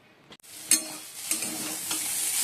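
Yardlong beans and potatoes frying in a home kitchen pan give off a continuous hissing sizzle, with a few sharper stirring scrapes, close and alone without voices.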